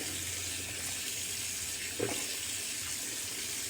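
Water runs steadily from a bathroom sink tap during cleanup, a constant close hiss with one brief splash or clatter midway and no talk.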